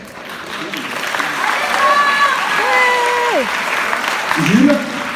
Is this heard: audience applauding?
yes